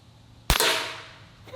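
A single sharp gunshot from an antique firearm loaded with old CCI ammunition, loud and close, ringing out in a brief fading tail after a quiet lead-in.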